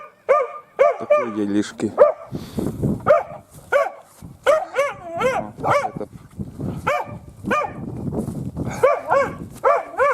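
A puppy in a kennel yips and barks in quick repeated bursts, near and fairly loud, with someone talking briefly between the barks.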